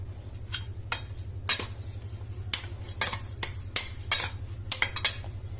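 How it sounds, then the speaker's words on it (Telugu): A spoon mixes coarse ground spice powder into chopped onions on a plate for Ulli Karam, with quick irregular clinks and scrapes against the dish over a low steady hum. "ఆనియన్ కట్ చేసుకున్న ప్లేట్లోకి, ఉల్లిపాయలు కట్ చేసుకున్న ప్లేట్లోకి పౌడర్ని వేసుకొని కలుపుకొని పెట్టుకోవాలి"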